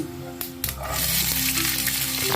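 Cumin seeds dropped into hot oil in a pan set up a steady, close sizzle that builds after a couple of soft clinks and keeps crackling evenly.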